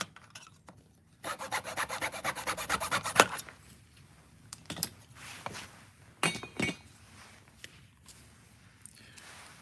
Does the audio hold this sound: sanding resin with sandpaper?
yes